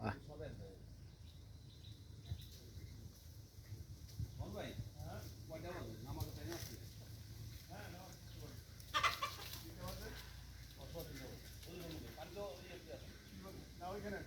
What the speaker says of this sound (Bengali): একদম সলিড দেশি মুরগি।